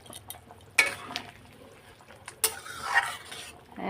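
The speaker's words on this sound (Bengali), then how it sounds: "তো দিয়ে দিলাম মাছগুলো এখন এটা ফুটতে থাকুক" Fish pieces going into a simmering Bengali curry, soft bubbling and stirring in a pot with a few sharp clinks of a utensil against the rim, close and fairly quiet, with no talk.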